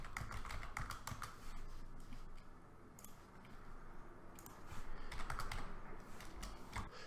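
Computer keyboard typing in bursts of quick clicks and taps while setting text box borders in After Effects, with a brief quieter pause midway before the keystrokes resume, heard close and alone.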